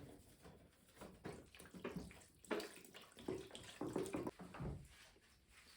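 Water splashes and trickles as a rusty metal tool is rinsed after soaking in a salt and soda solution, a series of quiet, close, intermittent sloshing bursts separated by brief pauses.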